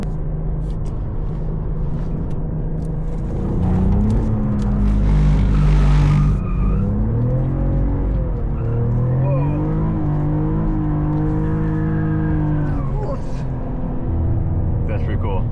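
A 2023 Cadillac CT4-V Blackwing drifts through a turn on a wet track, its engine revving and rising in pitch with tire noise beneath, while people inside the car talk over it.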